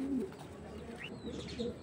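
Racing pigeons coo softly, with a low throaty coo at the start, a brief higher call, and faint further coos against a quiet room background, with no talking.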